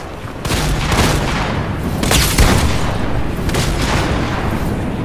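A bomb blasts in a video game, a loud, dense booming roar that swells twice over several seconds and holds without letting up, with no talk over it.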